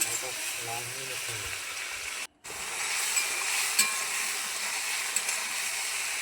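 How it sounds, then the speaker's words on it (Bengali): Shrimp frying lightly in a pan make a steady, soft hiss and sizzle that runs almost the whole time, with a voice talking over the start and a brief cut in the middle. "তো হালকা করে ভাজবো, খুব কড়া করে ভাজবো না"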